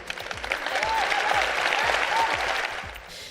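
An audience applauds a speech at an official event, with steady, dense clapping that holds evenly for about three seconds. The hall sounds full, with no other noise over the clapping.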